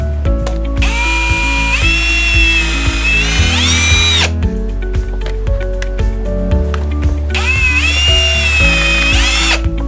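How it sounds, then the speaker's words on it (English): A power drill bores a couple of holes for an intercooler bracket on a Saturn Sky 2.4L turbo build, two loud sustained whining bursts with rising pitch, separated by a pause filled with clattering shop noise. "just gonna drill a couple holes, and hopefully that front part fits"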